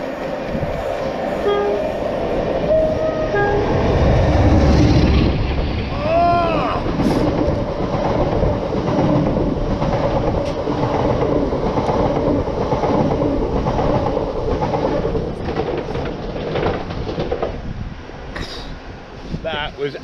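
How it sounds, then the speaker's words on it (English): A Class 47 diesel locomotive drags a Class 701 unit from Wembley to Derby RTC past on the line, smoking heavily, a loud continuous rumble of engine and rolling wheels with a horn sounding early and steady clatter throughout, with some talk underneath. "we've got a class 47 dragging through a 701 from Wembley up to Derby RTC."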